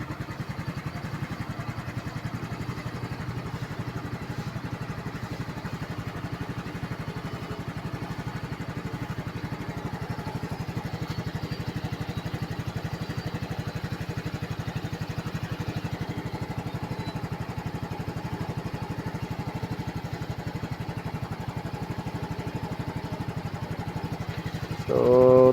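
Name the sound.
scooter engine started and running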